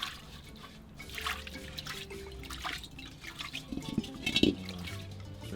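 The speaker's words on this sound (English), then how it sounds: "So you're just like washing out the pot now? Yeah, I'm washing it up." Water splashes and drips while a pot is rinsed out after making Ghanaian palm nut soup at a street food spot in Accra, with irregular trickles and clatters over a noisy outdoor background.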